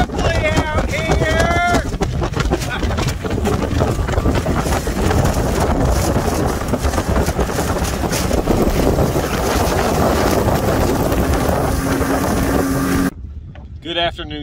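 A boat on a catfishing trip runs through windy weather, its engine and hull making a loud, constant churning roar mixed with heavy wind buffeting on the microphone, a voice talking briefly over it before the noise cuts out near the end.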